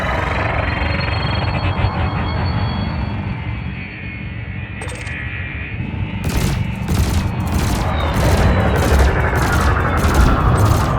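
Spaceship weapons firing in Elite: Odyssey, a rapid run of sharp repeated blasts in steady bursts over a constant engine hum, loud and close, building toward the end.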